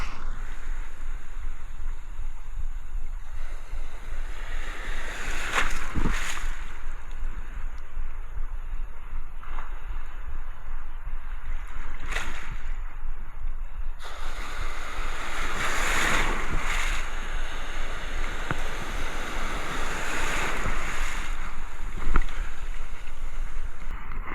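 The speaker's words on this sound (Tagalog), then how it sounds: "Grabing alon." Ocean waves surge and break repeatedly close by on a Palawan shore, with strong wind buffeting the microphone and a constant rushing roar throughout.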